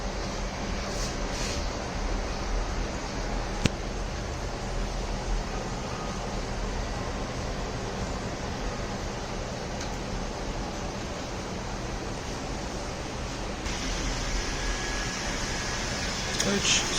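A 3-D printer runs a print job, producing a steady, even whir like a fan. The hum holds constant throughout at moderate volume, with an occasional faint click.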